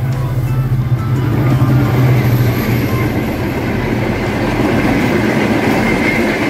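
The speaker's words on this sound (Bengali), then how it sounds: "বনলতা এক্সপ্রেস ট্রেনটি ইন্দোনেশিয়া থেকে ইম্পোর্ট করা হয়েছে" The Banalata Express, a nonstop passenger train imported from Indonesia, sends up a loud continuous rumble from onboard, with a steady low drone of wheels and carriage noise that holds throughout.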